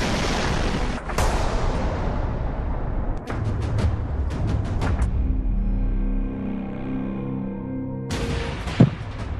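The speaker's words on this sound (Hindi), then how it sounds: "एक और बहुत बड़ा धमाका हुआ है" Explosions from bombing in Kyiv during the war, heard as deep booming blasts with rumbling tails, a low roar fading out in the middle and a sharp burst near the end; no voices.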